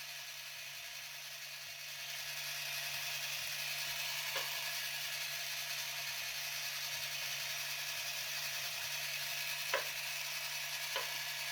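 Chamfering the mouths of new Alpha 6.5 Creedmoor rifle brass cases, a steady close whirring scrape with a few brief clicks as cases are handled.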